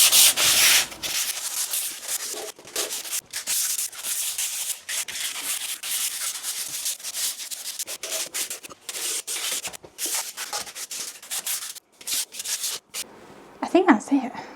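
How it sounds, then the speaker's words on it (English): Hand sanding of a surface during a home renovation, a close, raspy scraping in repeated strokes with brief pauses between passes, continuing steadily. "I'm going to start sanding."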